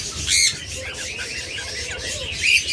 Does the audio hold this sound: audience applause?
no